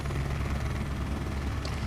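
An in-game helicopter air-taxiing in the X-Plane 12 flight simulator, a steady close rotor drone with low thumping hum and broadband whine, continuous and fairly loud for the whole stretch.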